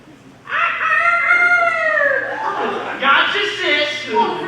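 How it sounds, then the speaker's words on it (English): A rooster on a farm crows loudly and close, a long rising and falling call followed by shorter clucking calls. "And the roosters."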